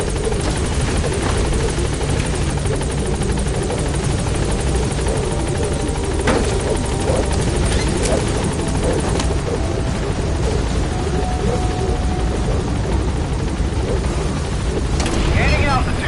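A helicopter comes in toward a landing zone in the video game Metal Gear Solid V, a loud, steady rotor whir and engine drone throughout, with a radio voice speaking briefly over it.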